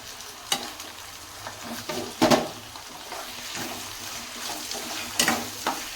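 Mint poha (flattened rice) fries in oil in a pan, with a soft sizzle under repeated scraping stirs of a spoon, some sharper clatters in between, all close and fairly quiet.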